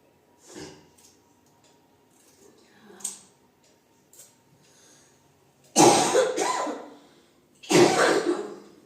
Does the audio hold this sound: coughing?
yes